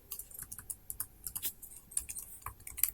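Quick, irregular keystrokes on a computer keyboard as code is typed, close and fairly soft with short pauses between bursts, no voices.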